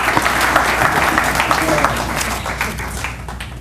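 Brief, loud burst of audience clapping at an Urdu mushaira poetry gathering in New Jersey, dense at first and tapering slightly toward the end.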